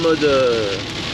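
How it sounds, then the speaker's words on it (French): Steady rain patters on the roof of a van, a dense close hiss filling the whole moment. "ça tombe bien qu'il pleut finalement"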